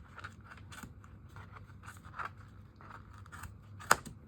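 Scissors cutting through yarn wrapped around cardboard to make a scarf fringe, heard as quiet, close repeated snips and soft scraping, ending with one sharp louder snip.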